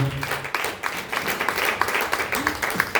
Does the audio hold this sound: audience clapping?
yes